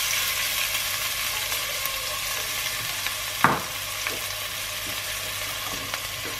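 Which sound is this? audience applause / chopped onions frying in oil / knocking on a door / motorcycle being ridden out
chopped onions frying in oil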